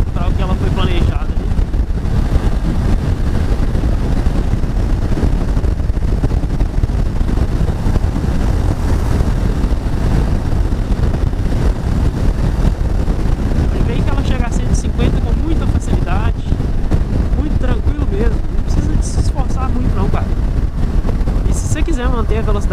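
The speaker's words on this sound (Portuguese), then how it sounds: "Você só escuta o barulho do vento." Loud, steady wind roars and buffets the microphone without a break while riding a Honda NC700X motorcycle at speed, a heavy low rumble.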